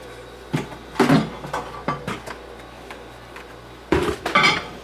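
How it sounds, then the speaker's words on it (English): A few sharp kitchen clunks and clicks as a microwave door is opened, with handling knocks spread across a quiet room. "You're going to open up your microwave."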